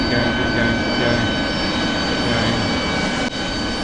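Loud, steady roar of an AV-8B Harrier jet landing with reverse thrust close by, a dense continuous blast with no pauses and no voices.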